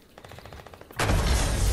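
Gunfire sprays in the video game Fortnite, first a rapid string of evenly spaced shots, then a loud dense burst of continuous automatic fire.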